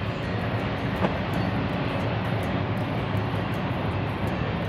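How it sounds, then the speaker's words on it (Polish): A train rumbles past in Tucumcari, a continuous broad roar of wheels and cars on the rails, loud and steady throughout with no speech. "co chwila przejeżdżają tu takie pociągi"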